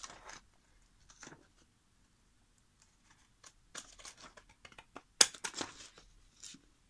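Scissors cutting around an acetate sheet for a journal craft, sparse quiet snips and crinkles with one sharper click, close by, with no talk.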